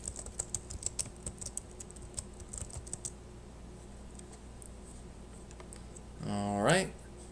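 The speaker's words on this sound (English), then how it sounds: "enter my super secret password" Quick clicks of fingers typing a password on a computer keyboard, a crisp irregular run of taps over about three seconds, followed by quiet and a brief rising electronic tone near the end.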